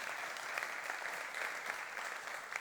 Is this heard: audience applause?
yes